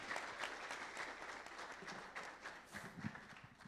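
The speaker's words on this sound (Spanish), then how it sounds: "así que por favor un aplauso" Audience applause during a panel session at a liquefied petroleum gas industry congress, a dense, steady wash of many hands clapping that holds for the full few seconds at moderate loudness, with no one speaking.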